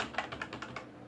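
Rapid, close keystrokes on a computer keyboard, about eight evenly spaced clicks, as text is typed into an Excel spreadsheet, with no voice over them.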